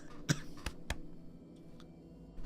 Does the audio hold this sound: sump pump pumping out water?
no